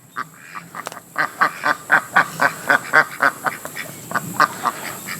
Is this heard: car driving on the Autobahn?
no